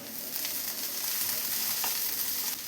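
Ginger and garlic frying in oil with a pinch of turmeric for egg keema, a faint, steady sizzle with light stirring, brief and quiet.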